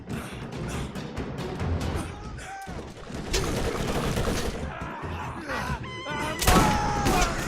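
Sniper rifle gunfire and fiery explosions in the Borderlands video game, with loud, dense bursts of shots and blasts crowding the whole span, one heavy crack standing out near the end.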